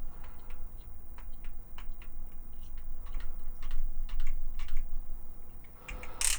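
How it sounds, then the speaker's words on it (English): Ratcheting joint of a Transformers toy (TFC Ironwill) being moved up and down, giving a series of small, close clicks at an uneven rhythm, with no talking. "Nice ratchets up and down."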